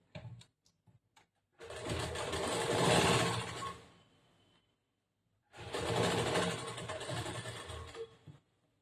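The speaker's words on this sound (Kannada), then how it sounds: "ಇಲ್ಲಿ 1/2 ಇಂಚ್ ಬಟ್ಟಿಗೆ ಒಂದು ಹೊಲಿಗೆ ಹಾಕ್ಬೇಕು" A sewing machine stitches blouse fabric in two distinct bursts of fast, steady whirring with a silent pause between them, close and fairly loud, with a few small clicks before the first run.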